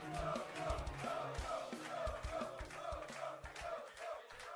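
A live crowd at a StarCraft 2 grand final in France chants and cheers a player's name in a steady rhythmic roar, distant and faint, heard without other talk.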